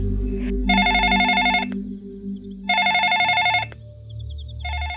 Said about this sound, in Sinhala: වසන්තගේ දුරකථනය නාදවන්ට ගත්තේය.